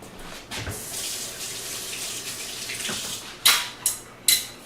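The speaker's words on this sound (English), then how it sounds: "let's give the spring a quick rinse" A cocktail shaker spring is rinsed under a running kitchen tap, giving a steady close splash of water, then three short bright bursts of spray near the end as the spring is moved through the stream.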